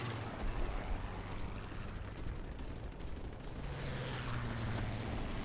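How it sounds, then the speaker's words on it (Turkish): Continuous dense bursts of rocket fire and explosions in War Thunder during aircraft combat, loud and sustained with a low rumbling drone underneath. "Yine isabetsiz bir roket atışı."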